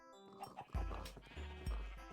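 Sheep on a Minecraft farm bleat twice in quick succession, two loud, close, wavering calls standing out clearly over a faint game background.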